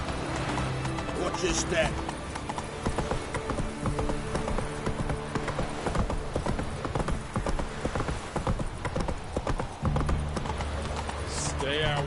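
Roach the horse gallops in a video game, with steady rapid clip-clop hoofbeats running throughout, a brief neigh near the end, and a voice talking over the hooves.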